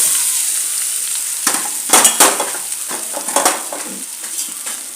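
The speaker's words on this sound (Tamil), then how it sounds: "ஒரு ஸ்பூன் எண்ணெய் விட்டு கடுகு, கருவேப்பிலை தாளித்து கொட்டிட்டு" Mustard seeds and curry leaves tempering in a spoonful of hot oil, a steady crackling sizzle with sharper popping bursts near the middle, close and alone with no voices.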